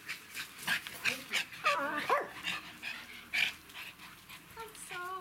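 A dog yips and whimpers in short, high, wavering calls on a mountain alp at Göschneralp in Switzerland, faint and fairly distant, with quiet voices nearby.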